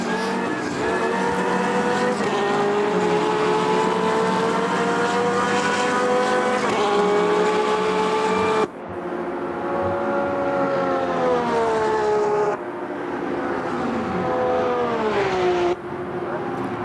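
GT3 race cars in the sim racing game Automobilista 2 at VIR, a loud close engine whine rising and falling through gear shifts, with another car passing by.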